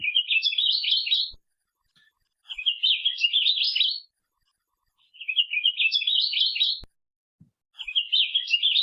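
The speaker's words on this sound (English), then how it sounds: "that's one way we remember the song of the bird" Recorded birdsong plays back as four separate bursts of bright, rapid, high-pitched twittering, each lasting over a second, separated by short clean silences, heard alone without talk.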